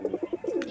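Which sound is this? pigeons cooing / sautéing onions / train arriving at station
pigeons cooing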